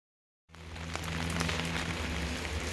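Heavy rain starts abruptly and then falls in a steady, dense hiss of many drops on surfaces, with no voices.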